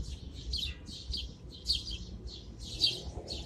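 Many small birds chirp and tweet in quick, overlapping bursts in an urban city, fairly close and lively, over a low steady rumble of city background noise.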